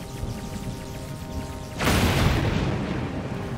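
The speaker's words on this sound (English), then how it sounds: "This is gonna catch lightning." Lightning strikes in Zelda: Tears of the Kingdom, bringing a sudden loud thunder boom that cuts into a quieter ambient game soundscape and rumbles on broadly for a couple of seconds.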